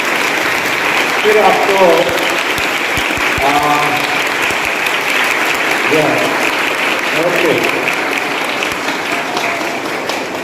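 Students clapping loudly for a teacher at a residential school assembly, a sustained, dense burst of applause filling the room, with a voice speaking briefly over the clapping.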